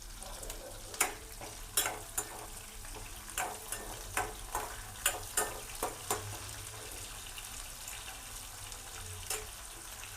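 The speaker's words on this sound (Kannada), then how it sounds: "ಇನ್ನು ಸ್ವಲ್ಪ ಹೊತ್ತು ಇದನ್ನು ಫ್ರೈ ಮಾಡ್ಕೋಬೇಕು" Onions frying in a pan for onion chitranna, a continuous soft sizzle broken by repeated sharp clicks and scrapes of a spatula stirring at an uneven rhythm.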